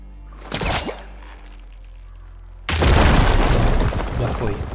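A bomb explodes in the video game Horizon Forbidden West: a sudden loud boom followed by a long rumbling roar that fades slowly, after a brief spoken word.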